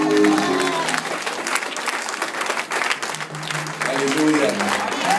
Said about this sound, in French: Je demande d'acclamer le roi des rois.